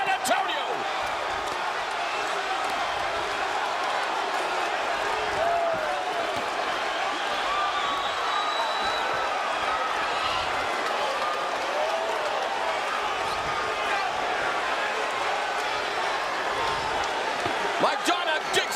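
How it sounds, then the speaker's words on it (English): Arena crowd in San Antonio roaring and cheering nonstop at a boxing match between Adrien Broner and Marcos Maidana, a dense, loud wash of voices and whoops with commentary talking over it. "The crowd is going crazy in San Antonio."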